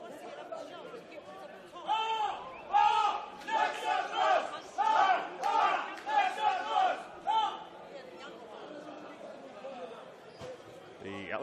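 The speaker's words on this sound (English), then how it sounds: "The Alexandra cheer squad spark up again." A cheer squad at a semi-professional soccer match chants in rhythmic, rising and falling bursts, a group of voices shouting in unison at middle distance over ambient crowd murmur, with the chanting fading out near the end.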